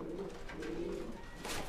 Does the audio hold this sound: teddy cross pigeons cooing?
yes